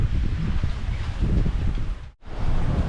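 Strong, steady wind buffets the microphone aboard a sailboat off Elba, Italy, in a breeze of roughly 13 to 19 knots, with a broad roar that dips briefly to near silence before surging back.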